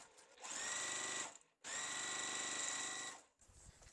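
A sewing machine stitching a quilt seam runs in two close, steady bursts of rapid whirring, separated by a brief pause, with quiet before and after.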